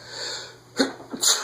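Two quick sneezes, close and sharp, the second slightly stronger, against the faint steady hum of a Casablanca Hermosa ceiling fan.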